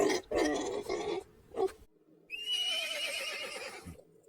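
A horse whinnies twice, a shaky rising-and-falling neigh, then after a brief pause a longer, high, quavering whinny rings out clearly.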